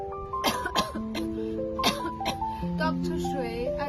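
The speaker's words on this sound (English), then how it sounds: "It looks like that cough is really bothering you." A baby with whooping cough gives a series of short, harsh coughs in quick succession, fairly close, with tonal sustained sounds running underneath.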